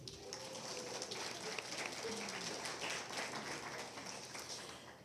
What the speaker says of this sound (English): So let's just give yourself a round of applause for being here.